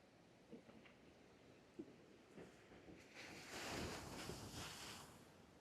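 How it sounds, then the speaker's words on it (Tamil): A rough coastal sea with fast-moving water sends a low rumble of surf and buffeting wind, building into a louder surge toward the end. "தண்ணி போற ஸ்பீடுக்கு கடலடி வந்து ரொம்பவுமே பயங்கரமா இருக்கு"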